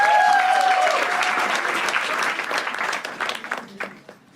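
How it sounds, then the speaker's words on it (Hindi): A comedy show audience bursts into loud applause for a performer named Santosh, sustained clapping that gradually thins and fades out near the end, with a few faint voices underneath. "एक बार जोरदार तालियां for संतोष भाई"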